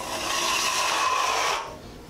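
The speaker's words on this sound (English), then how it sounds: "we just have to come back and do a little bit sanding" A continuous abrasive rasping of sanding over a scraped concrete surface during a drywall tape repair, close and steady for about a second and a half before stopping.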